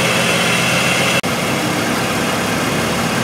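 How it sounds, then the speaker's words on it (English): A 2005 Jeep Liberty 3.7L engine idles roughly with multiple cylinder misfires on cylinders 4 and 6, a steady close drone broken by one brief dropout partway through. "So we do in fact have multiple cylinder misfire, cylinders 4 and 6 on bank 2."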